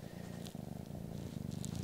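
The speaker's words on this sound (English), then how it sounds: "And you guys can just listen to her purr." A light female cat purrs while being held close, giving a soft, continuous, rhythmic rumbling that pulses with each breath, quiet and alone.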